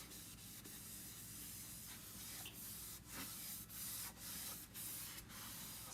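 Water sprayed from a bottle to wet a board eraser for chalk crafting, soft hissing bursts repeated about eight times at a steady pace over a continuous quiet background.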